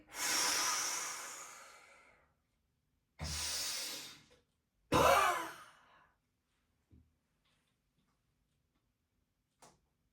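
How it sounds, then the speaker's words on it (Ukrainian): Strong, breathy exhalations during an abdominal press exercise: three long forceful blows in succession, close to the mic, followed by a couple of faint short breaths and quiet pauses. "Видих."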